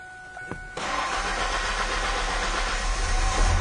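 A 1997 Ford with a hard-start fault cranks over with a brief starter whir while fuel pressure builds, then catches into a steady low running rumble that continues, close and fairly loud.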